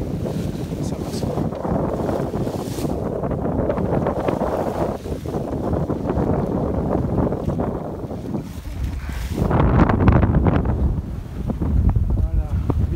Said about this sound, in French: Sous voile pour l'instant, sans moteur, c'est bien.